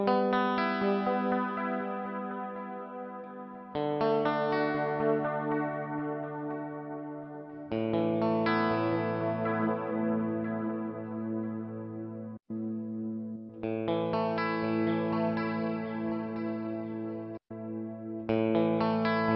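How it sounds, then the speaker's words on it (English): Hotone Binary Eko delay pedal on its warm echo setting, a slightly saturated delay, playing sustained harmonic guitar chords in several phrases with brief gaps, each chord trailing into soft repeating echoes; loud and alone with no voice. "the warm echo is, as it would sound, a warmer type of delay"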